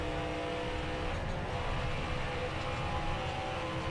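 Stock cars race at Dover in the NASCAR Heat 5 video game, with a steady, fairly faint engine drone and whir continuing throughout and no talk.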